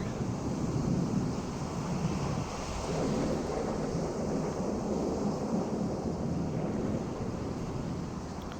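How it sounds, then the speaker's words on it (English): Wind blowing in the PC game Amerzone: Explorer's Legacy, a continuous low, rushing howl with gentle swells in strength, steady throughout and heard alone. "The wind gets a little louder."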